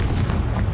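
A Confringo spell blast from the Hogwarts Legacy video game, a short dense fiery burst with a low booming body that fills the whole brief moment, loud and close with no pause.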